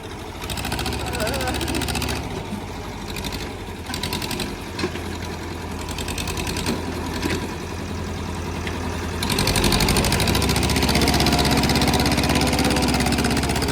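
A diesel engine chugs and rumbles steadily close by, revving louder near the end, while people talk over it.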